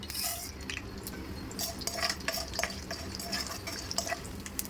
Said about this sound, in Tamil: 50 ml ஆயில் விட்டுக்கிறேன். கடுகு, உளுத்தம்பருப்பு, கடலைப்பருப்பு,